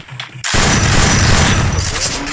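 Gunfire in the mobile shooter Free Fire, a loud dense burst of rapid shots that starts abruptly after a quiet moment and continues to the end.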